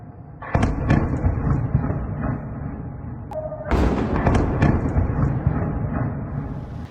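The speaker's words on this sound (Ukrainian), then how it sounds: "За хвилину у місті лунає серія вибухів." Repeated booming blasts from drone strikes on the city of Kharkiv echo one after another amid a loud, continuous rumble, with several sharp impacts spread across the clip.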